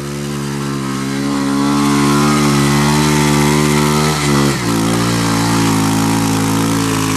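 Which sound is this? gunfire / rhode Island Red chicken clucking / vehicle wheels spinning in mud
vehicle wheels spinning in mud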